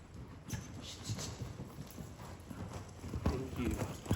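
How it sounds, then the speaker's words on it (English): A horse cantering during a riding session, its hoofbeats thudding softly in a three-beat rhythm amid outdoor background noise, with voices talking over it. "Do one more little canter."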